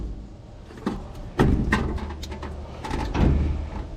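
Someone opens the door of an auction-bought unit listed as inoperable, with a few sharp clicks and knocks followed by a louder scraping, rattling swing and later clunks, close by, with no talk.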